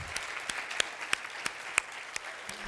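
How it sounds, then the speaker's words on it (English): A crowd applauds steadily, with individual sharp claps standing out over a continuous patter of hands, heard from a moderate distance. "I would love to have just another really great round of applause for everyone that we've heard from."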